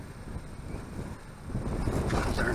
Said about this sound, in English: Darn wind.